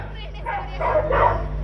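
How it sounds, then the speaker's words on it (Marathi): A dog barks and yips in a few short, close bursts over a low background hum, while people shout nearby. "हा रे कुत्रा"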